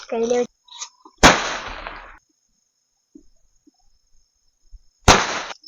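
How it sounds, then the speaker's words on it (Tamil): Two sharp needle firecracker bangs go off several seconds apart, Sivakasi crackers, each a loud crack with a brief crackling tail, with quiet pauses and small pops between them. "அடுத்து இந்த ஊசி பட்டாசு வெடிச்சு பார்க்கலாம் எப்படி இருக்குன்னு சொல்லிட்டு."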